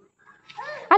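A puppy found along the way to school whimpers with a thin, rising whine, then lets out a sharper yip at the end of the brief moment.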